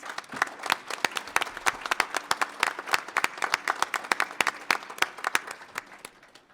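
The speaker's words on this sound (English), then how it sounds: "Maybe give them another round of applause." Audience applause for a school choir after O Canada at a SUMA convention: dense, steady clapping from a large crowd, fairly even in loudness and tapering slightly toward the end, with no talk over it.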